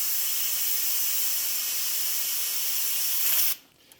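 Loud, steady hiss of steam venting from an Instant Pot's pressure release while Zuppa Toscana cooks inside, a dense unbroken rush that cuts off abruptly near the end, leaving quiet.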